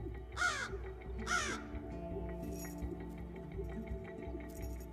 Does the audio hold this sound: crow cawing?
yes